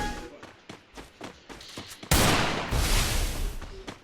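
Rapid bursts of gunfire in a shooting video game, a string of sharp evenly spaced shots followed by a dense sustained volley, loud and close.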